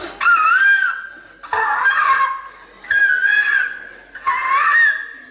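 A voice imitates a peacock calling with four loud, piercing, wailing cries, each about a second long, separated by brief pauses and delivered close up.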